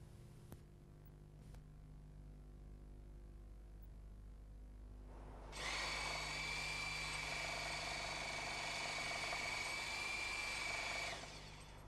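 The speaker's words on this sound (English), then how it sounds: "A hone attachment will renovate the bore." A hone attachment renovating a cylinder bore on a hammer drill, a steady tool-like whine with sustained high tones starting midway and running for several seconds at moderate level after a quiet low hum, then stopping abruptly.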